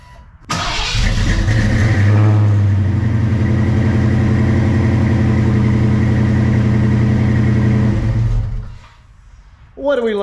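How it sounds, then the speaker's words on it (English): A car engine cranks and catches after a fuel tank refit, then runs loud and close with sustained revving for several seconds before cutting off abruptly. "see if the car will start"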